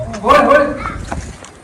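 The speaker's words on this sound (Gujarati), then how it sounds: "કૂતરું છે" A dog gives a single short, loud bark close by, followed by softer scuffling and faint movement.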